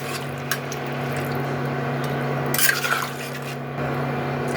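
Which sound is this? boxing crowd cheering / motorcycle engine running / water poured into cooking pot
water poured into cooking pot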